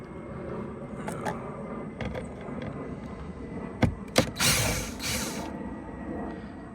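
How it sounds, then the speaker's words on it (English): A screw is worked out of a BMW F10 door panel during a door handle replacement, heard as close mechanical clicks and ratcheting creaks followed by a few sharper knocks and a brief rasping scrape. "One more screw right in here, and once you get that out"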